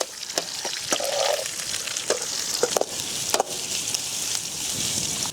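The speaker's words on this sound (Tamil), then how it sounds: "கட் பண்ணி வச்சு வெங்காயம் சேர்த்துக்கலாம். நல்லா வதக்குங்க மாஸ்டர்." Onions sautéing in a pan with goat intestine and blood give a steady, loud frying sizzle, broken by sharp knocks and scrapes of a ladle stirring against the pan, close up, with no voices.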